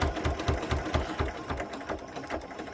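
A sewing machine runs steadily, stitching a quilt with a rapid, loud, close mechanical chatter that holds throughout.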